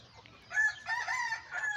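Chickens and a rooster in a waterlogged backyard coop on a rainy day: after a quiet start, a run of close, strained crowing and clucking calls rises in several bursts.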